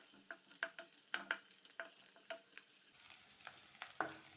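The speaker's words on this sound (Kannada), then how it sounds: "ಬೆಳ್ಳುಳ್ಳಿ ಸ್ಮೆಲ್ ಬರುವವರೆಗೆ ಸ್ವಲ್ಪ ಫ್ರೈ ಮಾಡ್ಕೊಳ್ಳುವ" Chopped garlic, six cloves, fries in hot oil in a pan, giving a steady crackling sizzle broken by repeated scraping stirs and clinks at an irregular rhythm, close and clear, with no talking.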